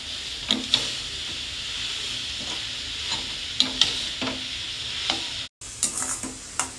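Grated cauliflower cooks in a pan with very little oil, giving a soft, steady sizzle while a spoon scrapes and stirs it in a few short strokes. A brief drop-out comes near the end.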